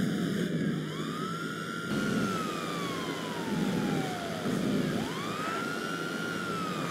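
A police car siren in GTA V wails loud and close, its rising and falling sweeps repeating over steady engine and traffic noise for the whole stretch.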